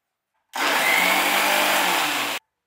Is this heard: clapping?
no